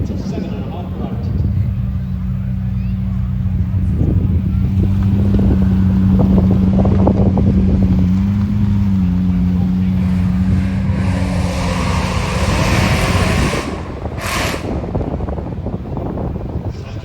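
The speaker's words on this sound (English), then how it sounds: "here we have a supercharged 5-litre V10 engine" A supercharged 5-litre V10 engine at an outdoor car show runs close and loud, a steady droning tone rising and falling through revs, buffeted by wind noise with someone talking over it.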